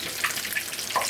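Steady crackling sizzle of tilapia frying in hot oil in a pan, a continuous bright hiss with small pops, close by and moderately loud, no voices.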